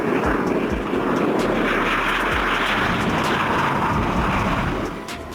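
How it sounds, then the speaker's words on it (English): A private jet aircraft roars steadily overhead, a loud broadband engine rush sustained throughout before easing off slightly at the very end. "A jet aircraft designed for private use"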